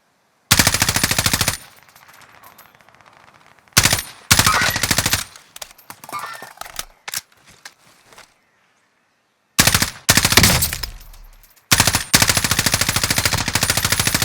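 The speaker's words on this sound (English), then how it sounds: "I'm shooting at the bounty" Gunfire in the video game Warzone on the Caldera map: loud, close bursts of rapid automatic fire, several long volleys broken by quieter gaps with scattered single shots, no talking.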